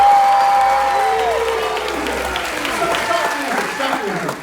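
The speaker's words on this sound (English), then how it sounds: "can I at least get all the applause you're going to give me anywhere at the end, up front" Audience applause at a live magic show, a dense wash of clapping that builds and stays steady throughout, with a sustained music tone fading out early and some crowd noise mixed in.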